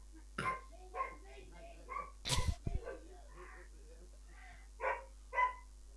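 A dog barks in a few sharp bursts in the middle of an indoor scene, while several people chat and laugh around it.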